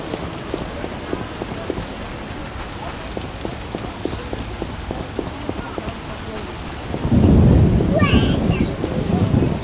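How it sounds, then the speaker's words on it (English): Thunderstorm with rain in The Witcher video game: steady rain patter with rhythmic ticking, then a deep rolling thunder rumble swells loudly near the end and lingers under the downpour. "Storm's coming."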